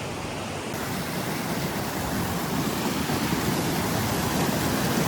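Fast-flowing cold mountain river water in the Wind River Range, a continuous loud rushing roar, close and steady, with no voices.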